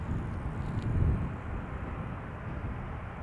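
An Air Canada Boeing 787-8 Dreamliner arriving at Schiphol Airport gives a low, broad engine rumble that peaks briefly and then stays steady at a moderate distance.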